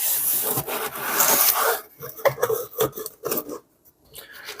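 Cardboard and plastic packaging of a Taramps HV 20 monoblock car amplifier being opened by hand, with close rubbing, scraping and rustling in bursts that thin out into a few separate soft handling sounds.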